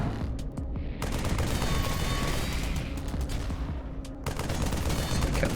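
Near-continuous gunfire in the Nintendo Switch game Reflex Unit 2, a dense rapid stream of shots that stays loud throughout, with short choppy breaks and metallic ringing over it.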